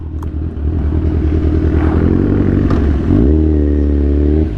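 A motorcycle engine idles and revs up close and loud on a rough, rutted road near Infanta, with clattering and scraping from the bike over the uneven ground.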